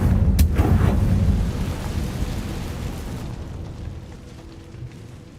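A Confringo blasting spell goes off in Hogwarts Legacy, a loud booming explosion up front that rolls into a long, fading rumble.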